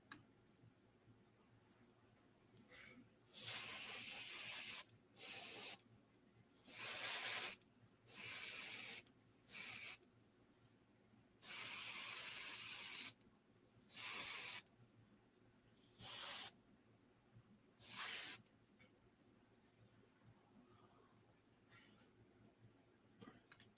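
Base coat paint sprayed onto a 1/6 scale Garage Kit figure of Aerith Gainsborough from Final Fantasy 7, in about nine separate hissing bursts of a few seconds each, close and loud, with quiet pauses between.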